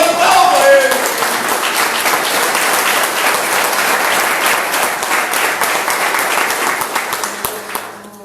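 A church congregation breaks into loud, sustained applause, dense clapping from many hands that holds steady for several seconds before tapering off at the end.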